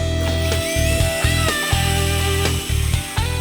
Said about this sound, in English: We'll drill a 1/2 inch hole.